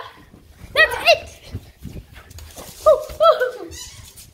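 A dog makes two pairs of short, tonal yelps or whimpers at close range, with some voice-like sounds and low rustling between them.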